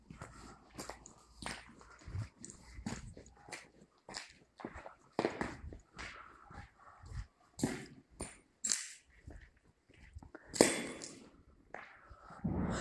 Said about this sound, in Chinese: 有狗叫，马路边的狗